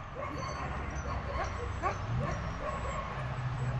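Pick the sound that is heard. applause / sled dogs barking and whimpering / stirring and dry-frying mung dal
sled dogs barking and whimpering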